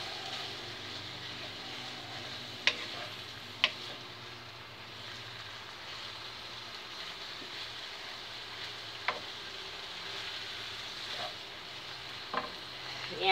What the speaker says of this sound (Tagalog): Hintayin lang natin maluto yung giniling